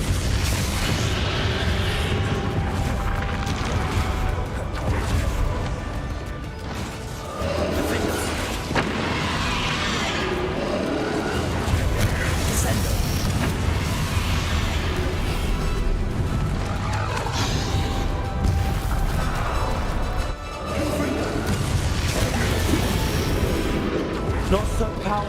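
Confringo fire spells blasting in the Hogwarts Legacy video game, a dense run of loud booming explosions and rumbling impacts layered over constant game score and effects, with short lulls near seven and twenty seconds.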